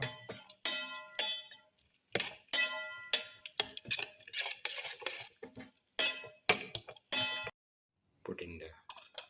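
Utensil mixing black pepper into beaten egg in a bowl, a series of close, sharp clinks and taps in uneven bursts with short pauses between them.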